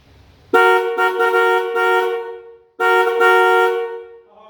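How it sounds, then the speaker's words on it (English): Dual car horns wired straight to ground give two loud, close honks, the first about two seconds long with a brief stutter and the second shorter, both with a rich harmonic tone. "Dual horns always sound better than just one"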